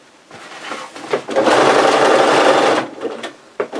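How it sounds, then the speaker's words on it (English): A sewing machine stitches through the layered fabric of an apron tie in one loud, steady whirring run of about a second and a half, with short bursts and handling noises before and after. "Sew through all the thicknesses, make sure everything's tucked in."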